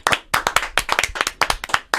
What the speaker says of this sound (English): Let's clap for everything.